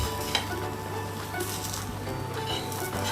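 Sweet bacchalu, a flatbread of lentils and jaggery, sizzles steadily in ghee on a pan over a low flame, a continuous close frying hiss with faint stirring and a few small clinks.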